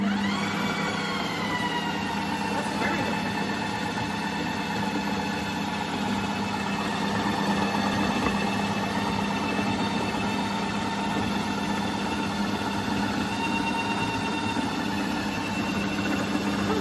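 A mixing machine runs steadily with its paddle stirring from the top downward, giving a continuous motor hum with tonal whine throughout, close and alone with no talk.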